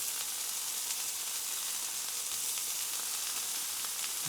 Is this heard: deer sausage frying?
yes